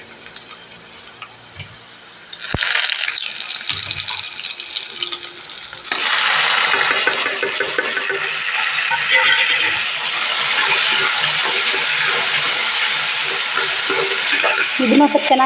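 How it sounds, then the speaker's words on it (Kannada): Tomato masala is stirred as it fries in a pan: a steady, loud sizzle with scraping stir noises that surges around the two- and six-second marks and continues unbroken, with no talking. "ಇದನ್ನು ಸ್ವಲ್ಪ ಚೆನ್ನಾಗಿ ಮಿಕ್ಸ್ ಮಾಡಿ."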